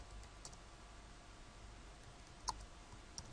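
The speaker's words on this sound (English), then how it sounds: "So I'm clicking on Configure." Two faint, sharp mouse clicks, one near the middle and one near the end, over a low steady background hum, made while configuring an Office 365 archive migration on a computer.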